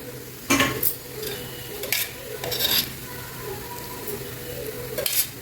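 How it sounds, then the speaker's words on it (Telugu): Ghee-laced upma frying in a pan, a steady close sizzle broken by several sharp spoon scrapes and stirring knocks against the pan. "ఇప్పుడు మనం ఇందులో నెయ్యి వేసుకుందాం"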